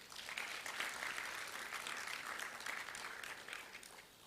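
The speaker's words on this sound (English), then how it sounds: "I think give yourself a round of applause." Steady, dense applause from a conference audience at KECTIL Zambia, even and sustained for about four seconds, moderately distant and fairly quiet.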